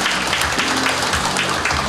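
An audience applauds at a Korean literary festival ceremony, a brief, dense burst of clapping from a seated crowd.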